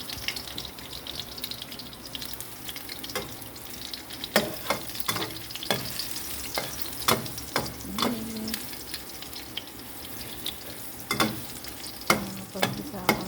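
Garlic sautéing in a pan for ginisang mongo (mung bean stew), with a steady sizzle broken by sharp clinks and scrapes of a spatula stirring against the metal pan, no voices.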